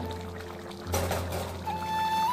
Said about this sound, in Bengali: কষানো হয়ে গেছে, এবার জলটা দিয়ে দেব।